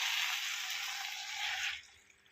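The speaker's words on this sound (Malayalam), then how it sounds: "അതിലേക്ക് നമ്മൾ അതിൽ നിന്ന് ഊറ്റിയെടുത്ത വെള്ളം ഒഴിച്ചു കൊടുക്കാം." Drained water poured into beef masala in a pot for beef varattiyathu, a steady splashing pour that runs for under two seconds and then stops, close and fairly quiet, with no voices.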